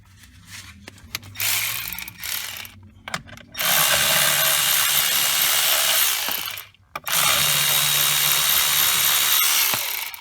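Power drill backing out 7mm screws from a Pontiac G6 steering column cover, with whirring bursts of varying length broken by brief pauses and small clicks, fairly close.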